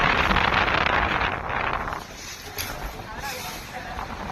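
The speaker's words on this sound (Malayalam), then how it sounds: "ഓ എന്തൊരു കാറ്റ്." Strong wind gusting on a foggy outing past swaying coconut palms, a loud broadband roar buffeting the microphone that eases after a couple of seconds but keeps blowing.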